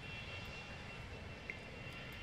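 Airplanes cruising overhead in The Universim city-building game, a continuous broadband engine drone at moderate distance, steady and even with no speech.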